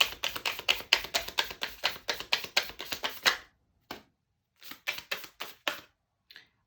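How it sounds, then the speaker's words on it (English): A tarot deck being riffled and shuffled by hand: a quick run of about a dozen crisp, even card snaps close by, then a pause and a few slower scattered riffles and taps, with no speech. "Is that such a clean shuffle?"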